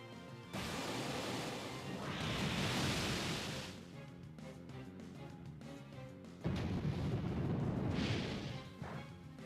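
The Waterfall move from Pokémon Rising Ruby: two loud, rushing crashes of water, each a surging wash of noise lasting a few seconds, separated by a brief quieter gap with faint clatter.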